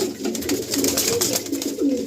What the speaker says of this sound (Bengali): লফটে এত পায়রা